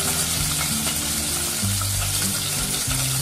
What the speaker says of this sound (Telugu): ఇవన్నీ దోరగా వేగేటట్టు ఫ్రై చేసుకోవాలి